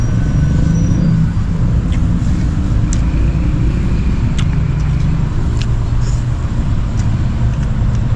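A car travels a road at night, its steady engine and tyre rumble filling the cabin loudly and continuously, with a few faint ticks and clicks over the low drone.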